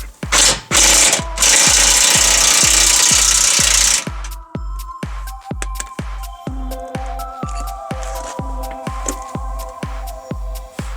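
An impact gun loosens control arm bolts on a car's front suspension during a wishbone and ball joint replacement, firing in loud, sustained bursts at first, then giving way to shorter rattling hits and metallic clanks.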